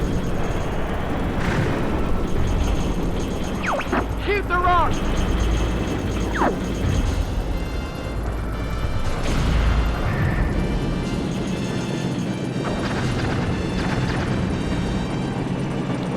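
A rock is shot and blown up in a video game, heavy explosive blasts and rumbling booms scattered over a busy game soundscape with whistling effects, moderately loud, with a voice talking at times.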